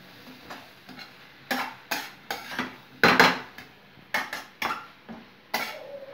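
Potato and cabbage sabzi with coriander being stirred in a pan, a spoon scraping and clinking against the metal in several separate sharp bursts with short pauses between them, close by and with no talking.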